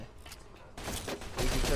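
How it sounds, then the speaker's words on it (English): Gunfire aimed at the player in Mafia 2 breaks out as a short burst of loud, close shots, growing denser and heavier toward the end. "Oh god, who's shooting me?"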